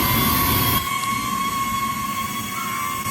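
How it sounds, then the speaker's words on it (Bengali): A DJI Neo 2 drone lifts off and climbs, its propellers giving a loud, steady, close whine with a sustained tonal hum that eases slightly after the first second. "এবার ড্রোনটা উপরে উঠছে"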